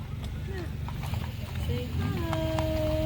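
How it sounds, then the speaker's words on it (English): Horse hooves clip-clop steadily close by during a small ice storm at Christmas, with voices chatting over the hoofbeats and a faint whinny-like tone rising near the end. "There's another horse."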